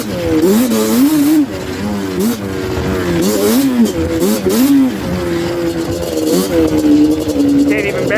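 A Yamaha Banshee ATV engine screams near redline while ripping through snow, a loud, close two-stroke wail that rises and falls with throttle blips and brief dips, sustained almost throughout with a voice talking over it.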